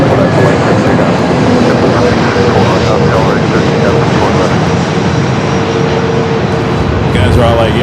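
A large aircraft taking off from runway 24 left at LAX, a loud continuous engine roar filling the scene from start to finish, with a faint radio voice mixed underneath.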